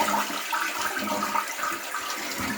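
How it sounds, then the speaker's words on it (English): A toilet flushes and its tank refills through a Korky QuietFILL fill valve, giving a steady, close rush of water that runs for the whole stretch without any talking. "So by flushing the toilet again,"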